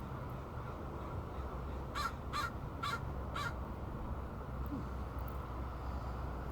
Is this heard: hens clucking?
no